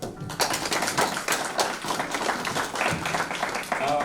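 An audience claps hands at a book launch, a dense, steady patter of many hands sustained for several seconds with brief uneven surges and faint voices mixed in.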